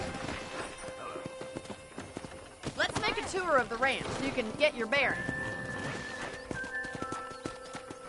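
Steady horse hoofbeats clip-clop through a ranch scene in Red Dead Redemption, a moderate rhythmic walk heard beneath a character speaking.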